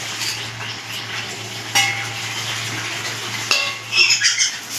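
Malabar spinach curry being stirred in a pan with fried eggplant added, steady sizzling and frying under scraping spoon strokes and a few clinks of utensil against the pan, with a low hum behind.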